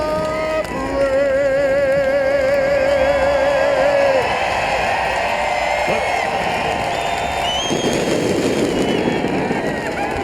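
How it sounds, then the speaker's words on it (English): Roaring crowd at a NASCAR Sprint Cup race at Watkins Glen, a loud sustained mass cheer with whistles and horn-like tones, thick and continuous throughout. "The roar of the crowd says it all."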